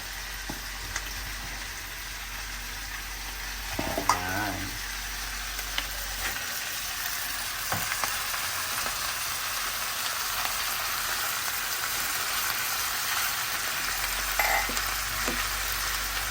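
Ingredients dropped into a pot of broth on the stove for a pregnancy meal plan, with a steady sizzling, bubbling hiss throughout, a brief clatter and stir near the start and a few soft knocks, no voices.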